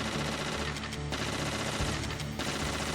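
Sustained automatic fire from a FAMAS-style rifle in Metal Gear Solid, a continuous rapid rattle of close, loud shots filling the whole stretch with no pauses.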